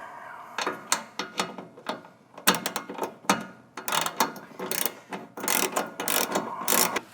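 A hand wrench with a rubber handle ratchets on the mounting bolts of a stainless steel Westin HDX side step being installed on a Silverado pickup, giving close, irregular bursts of clicking and metallic knocks.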